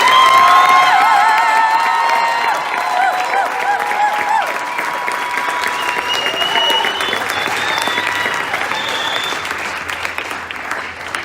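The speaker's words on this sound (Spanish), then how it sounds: "Denle un fuerte aplauso al Señor." A church congregation breaks into loud, sustained applause with cheering and whoops, dense clapping filling the room and gradually easing off, with some voices shouting over it.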